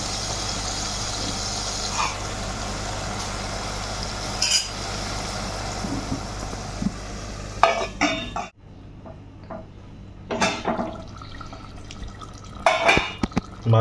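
Fish pieces turned over in a pan as they simmer on low heat for traditional Bengali Dhakai fish curry, with clattering utensil and pan knocks in bursts over a steady background hum, then quieter scraping and clinks.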